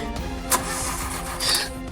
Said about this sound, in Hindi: ये गाड़ी स्टार्ट नहीं हो रही है यहाँ